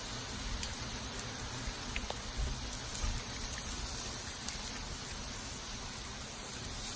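Steady rain hisses and patters outdoors around a grill while surf and turf paella cooks, an even wash of noise with occasional sharper drops and no talking.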